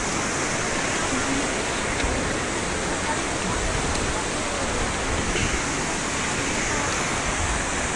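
The river and waterfall at Coban Pelangi in Malang, seen from a bamboo bridge, produce a loud, steady rush of falling water, a continuous broadband roar that stays unchanged from start to finish.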